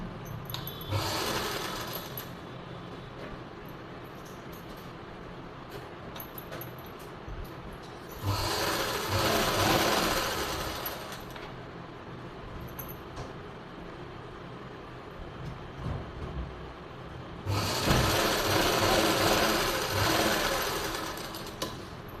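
Sewing machine stitching the lining of a blouse, running in three separate bursts of rapid mechanical whirring, each a few seconds long, with quiet handling sounds in the gaps.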